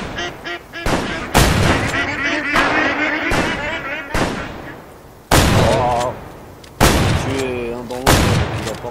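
Rapid gunshots crack out about seven times while shooting at ducks in the hunting game Way of the Hunter, with quacking and honking waterfowl calls between the blasts and people talking throughout.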